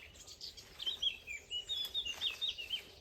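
Small birds chirp in a fruit tree, a series of thin, high tweets and short calls repeating irregularly, fairly faint and close, over quiet outdoor background.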